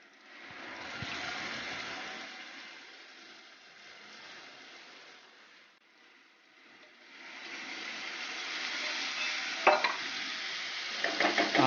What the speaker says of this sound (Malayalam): നന്നായിട്ട് അത് മിക്സ് ചെയ്തതിന് ശേഷം നമ്മൾ അത് കറിയിലേക്ക് ഒഴിച്ചു കൊടുക്കുകയാണ്.